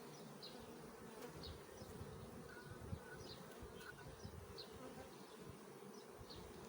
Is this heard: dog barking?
no